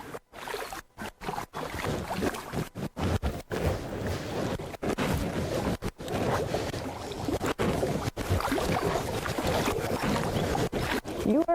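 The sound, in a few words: canoe paddling on water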